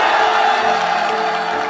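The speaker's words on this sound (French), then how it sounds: "la nouvelle est reçue avec un tonnerre d'applaudissements" A crowd roars with thunderous applause and cheering right after a presidential candidacy announcement, a loud, dense wall of clapping and whoops held steady throughout.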